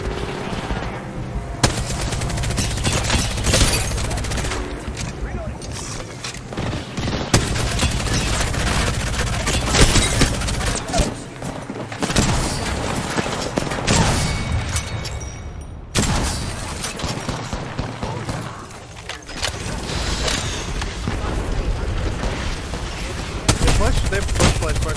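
Dense, loud gunfire in a video game fight, with a repeater weapon among the guns. Shots and bursts run almost without pause throughout, with brief lulls, over heavy in-game noise.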